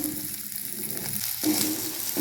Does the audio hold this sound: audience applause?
no